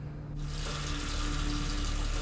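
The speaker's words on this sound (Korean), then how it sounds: "또다시 들려오는 물소리." Water suddenly gushes from a bathroom tap, switching on after a brief quiet moment and then flowing as a loud, steady, close rush.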